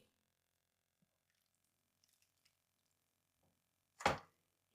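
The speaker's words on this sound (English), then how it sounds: "We add the vinegar." Vinegar poured into warm cream to make a cheese spread, heard as one short, fairly loud liquid splash after a long stretch of near silence.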